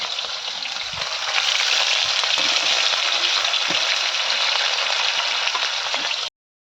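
Loud, steady sizzling of silver fish frying in hot oil, a continuous hiss that holds throughout before cutting off abruptly at the end.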